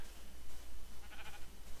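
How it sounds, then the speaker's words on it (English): A reskinned Minecraft sheep gives a faint, brief bleat over a soft, noisy game background, heard alone without talk. "Hello, sheep!"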